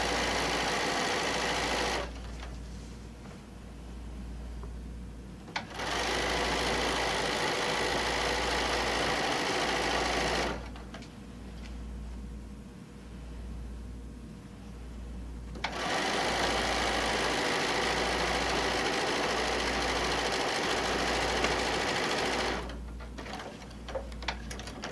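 A sewing machine stitches a quarter-inch quilting seam in three long runs of fast, even whirring, with short pauses between them and a steady low hum underneath.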